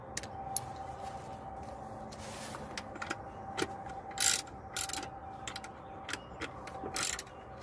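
A ratchet with a 10 mm socket undoes intake manifold bolts on a Toyota or Scion engine, producing faint clicking runs interrupted by a few louder metallic clanks, close up and without talk.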